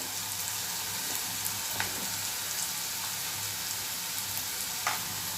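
Onions frying in a pan with turmeric and garam masala: a steady, even sizzle, close and moderately loud, with a couple of faint stirring clicks and no talk.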